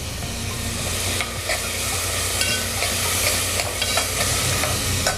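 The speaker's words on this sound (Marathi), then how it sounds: "हे कांदे चांगले गुलाबी रंगाचे होईपर्यंत परतून घ्यायचे" Small onions sautéed in a pan until pink for a Malvani mori (shark) mutton masala, a steady close sizzle and frying hiss with scattered stirring scrapes, no voices.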